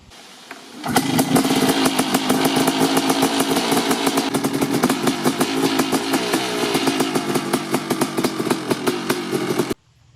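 A motorcycle engine idles with a deep, throaty, steady rumble, starting up and running loud and close for about nine seconds before cutting off.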